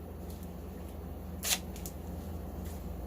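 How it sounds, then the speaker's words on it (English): A short strip of grollia tape being torn or cut while making a silicone pad for a pottery banding wheel, a single brief crisp rip standing out from quiet room background. "And we're going to tear it or cut it."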